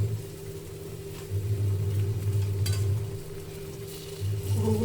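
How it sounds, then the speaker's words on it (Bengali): Lentil fritters (bora) frying in oil at medium flame, a steady soft sizzle with a low hum underneath, close and moderately loud, with no talking. "এই যে বড়া ভাজা হচ্ছে, খুব সুন্দর একটা কালার এসছে।"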